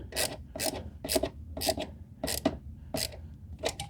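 A battery hold-down bolt in a second-generation Mini Cooper R55/R56 is tightened with a ratchet. It makes about eight rhythmic, raspy clicking strokes close to the listener, with no voices.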